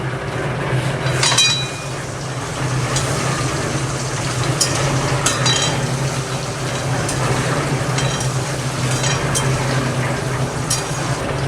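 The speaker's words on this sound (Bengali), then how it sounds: "তেলে আমি ডিমগুলো একটু হালকা করে ভেজে নেব" Eggs frying lightly in oil for dum biryani, giving a continuous close sizzle with a few faint utensil clinks scattered throughout.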